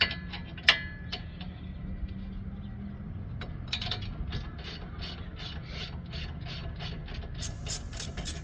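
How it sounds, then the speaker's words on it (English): A 17 mm ratchet working on a Honda Fit wheel during stud replacement gives quiet rapid clicking, a few isolated ticks at first, then a steady run of fast pawl clicks. "you're gonna use a ratchet, 17 millimeter ratchet"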